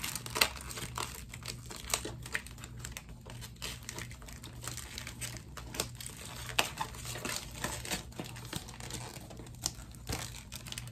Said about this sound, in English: Trying not to tear my mold.